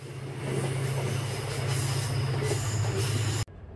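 A mountain train rolls into Cheoram station in Taebaek, Gangwon, with a steady loud rumble, wheel noise and a faint squeal throughout. It cuts off abruptly near the end.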